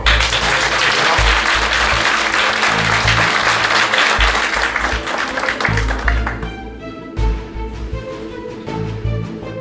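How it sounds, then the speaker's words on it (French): Audience applause fills a political party meeting hall, sustained dense clapping that is loud and close, thinning toward the end as a few tonal sounds emerge. "Je pense qu'on peut encore l'applaudir."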